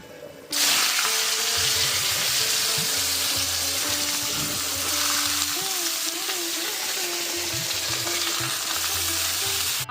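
Carrots and potatoes fry in a wok with a loud, steady sizzle that starts abruptly and holds close throughout, with scraping stir sounds and a few brief voices over it.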